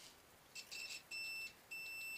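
Short electronic beeps from a continuity tester checking motor wiring: a brief double chirp, then two longer steady high tones, clear and close in a quiet room.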